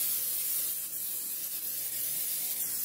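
A steady, close hiss of melted butter and rum spraying without pause.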